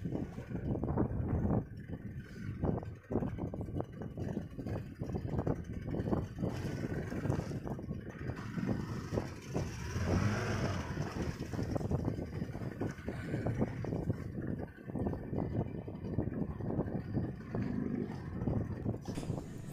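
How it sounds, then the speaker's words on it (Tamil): Strong wind buffets a rocking fishing boat at sea, a steady roaring rush with gusts and flapping, alone without talk, fairly loud and close. "படகு காற்று வேகமாக அடிக்கிறதுனால ரொம்ப அதிகமாக ஆடிக்கிட்டே இருக்குது."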